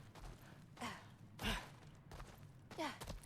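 Slow, heavy breaths from a creature lurking in a cellar in God of War Ragnarok, about four breathy exhales and inhales spaced a second or so apart, moderately close over a low, steady rumble, with no talking.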